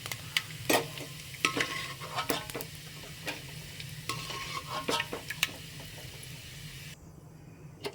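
Coconut pieces fry in a pan for jackfruit payasam, giving a steady close sizzle broken by sharp scraping stirs, with the sizzle thinning out near the end.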